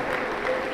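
A Pentecostal church congregation breaks into a brief, dense burst of applause after a member's testimony, steady clapping from the gathered crowd.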